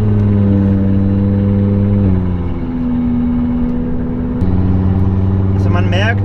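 Audi TT RS five-cylinder engine pulling at full throttle in fifth gear with a large turbo, a loud steady droning growl whose pitch steps and climbs as it revs, with someone talking over it.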